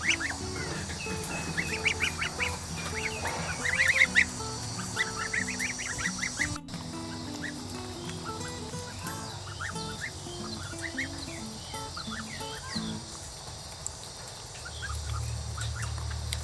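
Young one-month-old tufted Toulouse geese honk and peep repeatedly at close range, a busy overlapping chorus of short nasal calls with no voices.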